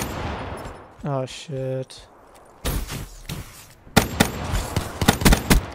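Video game gunfire in a gun game match, with sharp bursts of rapid automatic shots and single cracks in clusters, mixed with short electronic tones and a player's brief exclamation.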